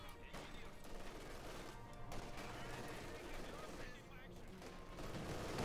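Machine gun fire and scattered gunshots rattle on steadily in a Company of Heroes 2 battle, heard at moderate distance under a talking commentator.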